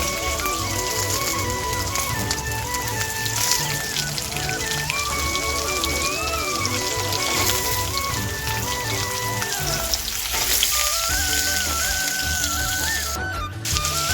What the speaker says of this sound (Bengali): এবার কেটে রাখা আলুগুলো আমি ভেজে নেব লবণ হলুদ দিয়ে